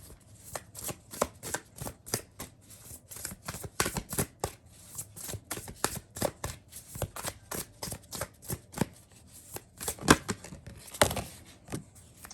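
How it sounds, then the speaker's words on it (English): Tarot cards being shuffled by hand, a rapid series of sharp riffling bursts and soft slaps that continue steadily and close up. "Just do a little more shuffling"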